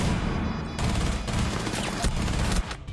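Gunfire in the video game Rainbow Six Siege, a dense, loud burst of rapid automatic shots layered with overlapping impacts, continuous through most of the moment before cutting off sharply near the end.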